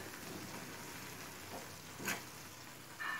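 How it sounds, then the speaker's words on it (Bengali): Hilsa fish frying in taro leaves, stirred in the pan: a faint, steady sizzle with a couple of brief scraping stirs near the end. "কথা বলতে বলতে মাছটা একটু নাড়াচাড়া করে নিয়েছি।"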